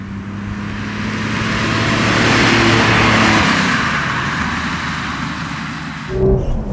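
A 1966 Porsche 911 short-wheelbase in original condition drives past and accelerates, its engine note loud and sustained, rising and then easing off over several seconds.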